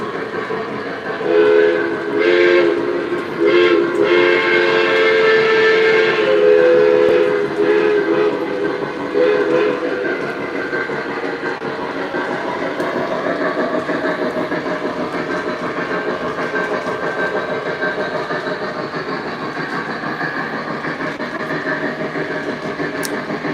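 An O scale model train engine runs on the main line of a layout, giving a steady rumbling hum with a whistle sounding for several seconds early on, continuous and close with no voices.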